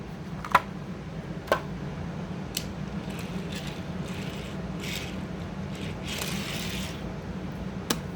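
A 1:64 scale NASCAR diecast car is taken out of its cardboard and plastic packaging, with soft rustling and scraping plus a few sharp little clicks and ticks, close and quiet with no talking.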